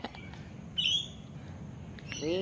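Birds chirp outdoors in the early morning, a few bright scattered calls and tweets over a low background hum, fairly faint and spaced apart.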